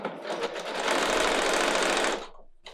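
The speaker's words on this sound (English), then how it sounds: "I'm going to lay them right side together, and then I'm gonna go ahead and sew." Sewing machine stitching fabric strips placed right sides together, a loud, fast, even whirring burst close up that runs for about two seconds before stopping abruptly.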